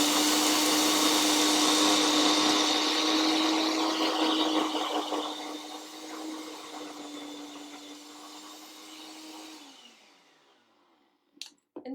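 A kitchen blender grinds vegan cobbler ingredients with a loud, steady motor whine that gradually eases and drops off near the end, followed by a few brief clunks.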